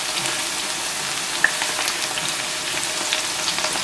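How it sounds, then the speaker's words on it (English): Okra for bhindi masala frying in a pan, a steady soft sizzle and crackle that runs unbroken, with faint stirring and one small sharp pop. "Make sure that you're stirring them gently while frying."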